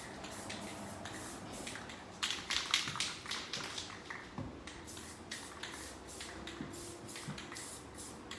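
Spray paint hisses in short bursts along the edge of a resin pour painting, soft close-up spritzes mixed with faint taps and the rattle of the can.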